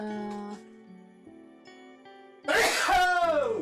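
A single loud, sharp sneeze bursts out after a few seconds of quiet humming or murmuring.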